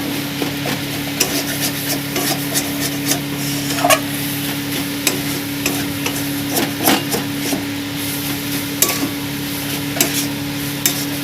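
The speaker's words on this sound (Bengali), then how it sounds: "গরম মশলা এক প্যাকেট দিয়ে ভালো করে নাড়িয়ে নিচ্ছি" Minced chicken filling with garam masala being stirred in a pan for potol dorma, a continuous soft sizzle with regular scraping spatula strokes and light clicks, steady and close.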